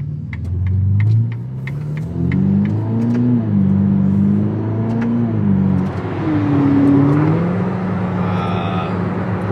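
A Ferrari supercar, worth about 750,000 euros, accelerates with a deep, steady engine rumble and a drone that rises and falls in pitch through the gears, heard up close and continuously for the whole stretch.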